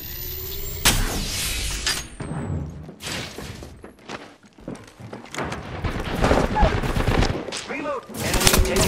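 Gunfire from the video game Apex Legends: dense, overlapping bursts of shots with thuds and impacts, loud and continuous throughout, with game voice lines and chatter mixed underneath.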